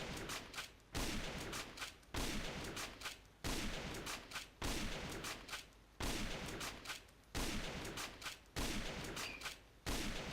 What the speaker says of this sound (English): So I'm just going to shoot them all and see where I land.